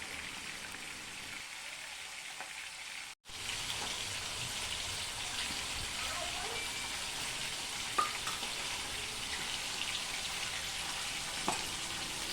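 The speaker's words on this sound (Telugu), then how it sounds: "సో ఇవి పీసెస్ ఫ్రై అవుతున్నాయి కదా" Fish pieces deep frying in hot oil for Nellore chepala pulusu, a steady, close, hissing sizzle with occasional pops that runs throughout after a brief cut near the start.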